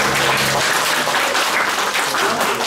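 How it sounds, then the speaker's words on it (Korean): Applause from a congregation at a Sunday children's church service, a steady wash of clapping hands sustained loudly through the whole moment with no voices over it. "박수."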